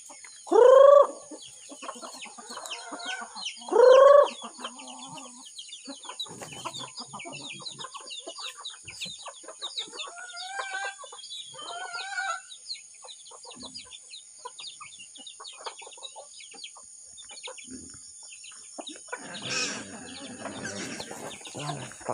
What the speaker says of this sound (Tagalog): So umaga na, magpapakain tayo ng manok.